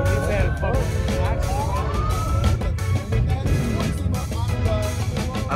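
A police car siren wails at a crash scene, rising and falling through the whole stretch over traffic and crowd noise, with voices talking nearby.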